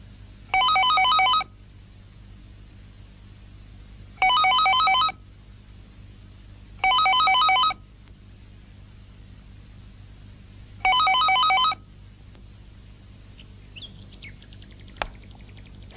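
A telephone rings unanswered in four evenly spaced bursts of electronic trilling, loud and close, with quiet gaps between each ring and no voices.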